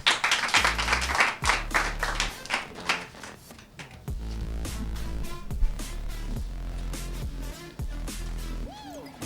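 Audience applause for a pageant contestant at the Bonzenga contest, bursts of clapping ringing out over loud music with a heavy beat, no clear cheering voices.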